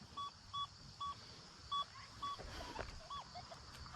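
A metal detector emits short, clean electronic beeps in a repeating pattern of about seven tones while relic hunting outdoors in Maine, faint against quiet background rustle.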